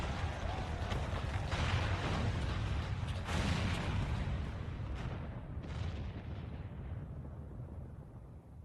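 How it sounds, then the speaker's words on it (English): Cannon fire booms as the main tower collapses in the Final Fantasy XIV video game, a dense roar of blasts and rumbling debris that peaks and then fades into a lingering low rumble, with no speech. "The main tower just collapsed. You heard it too, didn't you? It must have been the cannon at Castromabania."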